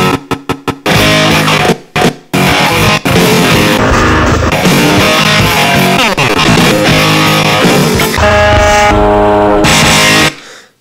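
Elektron Octatrack sampler playing a remix, loud distorted full-band music with stuttering sliced hits at the start and brief dropouts, continuous dense rock texture with effects throughout.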